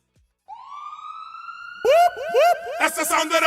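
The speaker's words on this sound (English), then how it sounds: "That's the sound of the police." A police siren winds up as a single rising tone, then breaks into loud, repeated wailing and yelping sweeps close by, with no talk over it.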